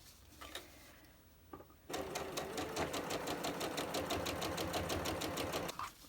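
A few faint clicks and handling noises come first, then a sewing machine starts and runs at a fast, even rhythm, stitching a quarter-inch quilt seam on an Arrows block before stopping.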